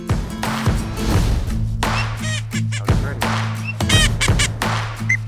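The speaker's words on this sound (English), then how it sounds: "So just some quacks and a little bit of chatter." Quacks and chattering notes blown on a duck call during a guided waterfowl hunt, short bursts repeating over a steady low hum and a few thumps.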